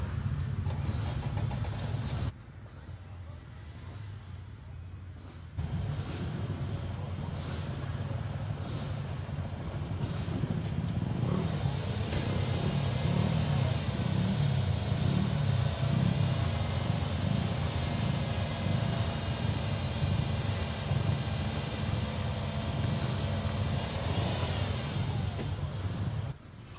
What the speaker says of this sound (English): I can hear bike engines fired up